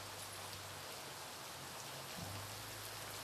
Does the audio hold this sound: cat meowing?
no